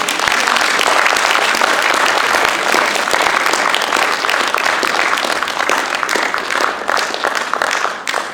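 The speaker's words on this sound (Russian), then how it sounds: "Поддержите аплодисментами." Loud, dense audience applause fills a concert hall after a stage song performance by a rehabilitation centre group, sustained clapping throughout without a break.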